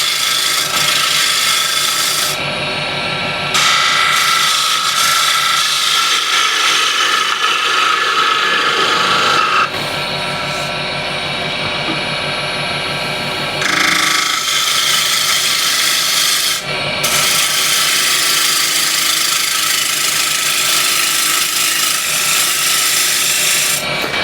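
Wooden lid being screwed onto the chuck of a woodturning lathe, giving sustained rubbing, scraping wood contact with ratcheting clicks, fairly loud and close, in several bursts with brief pauses, no talking.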